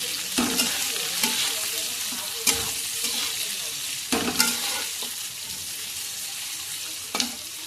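Carrots stir-fry in a hot pan for homemade chow mein, making a steady sizzle broken by several sharp scrapes and clacks of the spatula.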